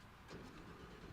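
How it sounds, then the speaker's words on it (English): A brief, loud burst of a 2024 Lamborghini Huracán Sterrato's V10 engine firing up, heard from the cabin with the windows down. "Listen to the V10 of this Huracán Sterrato."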